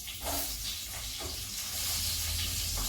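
Stuffed brinjals dropped into hot oil with turmeric and a little water give a steady, soft sizzle and hiss, close and unbroken, without talk over it.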